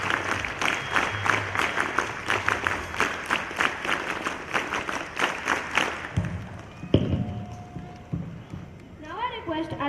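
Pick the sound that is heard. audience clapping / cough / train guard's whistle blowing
audience clapping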